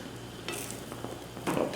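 Scrambled eggs are folded in a hot pan, giving a soft steady sizzle with scraping stirs and a brighter burst of frying near the end, close and fairly quiet, with no talking.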